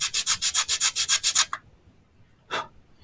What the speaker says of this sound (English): We're going to hit that a couple of times on the sandpaper.